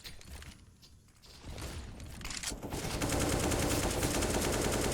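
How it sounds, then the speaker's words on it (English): Counter-Strike match on the Ancient map, with grenades exploding and bursts of rapid gunfire that build into a dense, continuous barrage, no voices. "A lot of grenades being thrown down."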